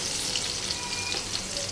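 Onions frying in a large pot for beef tehari, giving a dense, steady hiss that holds even and unbroken from start to finish, close and fairly loud with no voices.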